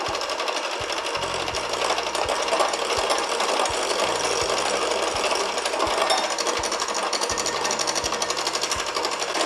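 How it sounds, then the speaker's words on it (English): An electric hand mixer whirs steadily, beating egg yolks, egg whites and lemon juice for a Greek youvarlakia dish, a loud continuous buzzing drone with a rapid rattle and no voices. "we're gonna slowly whisk that into the mixture. Turn this on."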